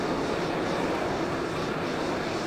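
A Panavia Tornado jet in Flight Simulator X gives a steady, loud engine roar that holds evenly throughout without a break.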